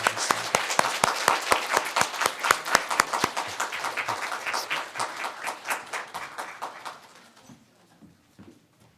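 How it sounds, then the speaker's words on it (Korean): Church congregation applauding during a Sunday service, starting with loud, evenly spaced rhythmic claps that loosen into scattered clapping, then trail off into quiet. "우리 박수로 감사하겠습니다."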